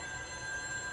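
A telephone rings indoors, a steady high-pitched electronic ring tone sustained and fairly loud throughout, with no voices over it.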